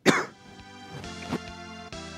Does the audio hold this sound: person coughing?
yes